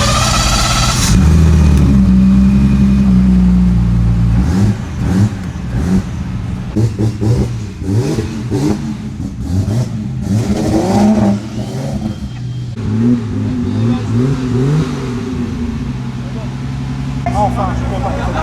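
A BMW E90 race car on a track revs hard into the rev limiter, its engine note rising and bouncing, loud and close, with a voice talking over much of it.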